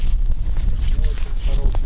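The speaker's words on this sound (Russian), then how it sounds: "Такой вот ветерочек дует." Wind gusts across the first ice at a winter fishing spot, a loud continuous low rumble buffeting the microphone with faint higher tones over it.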